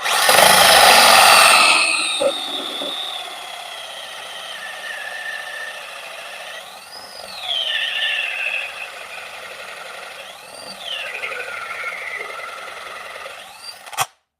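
A DeWalt battery power tool runs with a loud, high whine that cuts off after a couple of seconds, followed by a quiet spell and a few fainter rising and falling mechanical sweeps, ending in a sharp click.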